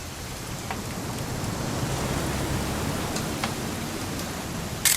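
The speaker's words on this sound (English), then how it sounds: "It's gonna rain the whole weekend, isn't it?" Steady rain falls throughout a video game scene from What Remains of Edith Finch, a dense, even hiss of drops on surfaces with occasional faint louder taps, no voices.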